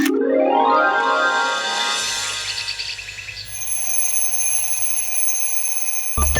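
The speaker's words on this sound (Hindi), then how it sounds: "ये अलार्म क्लॉक इन लोगों को जगाने के लिए होता है।" A loud alarm clock rings from a Baalveer TV serial scene, a bright metallic bell trill lasting several seconds before fading into a sustained high ringing tone, with no voices over it.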